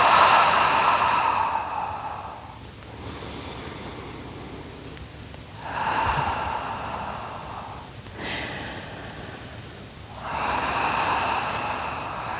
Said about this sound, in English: Nice big inhale through your nose, and then exhale out through your mouth.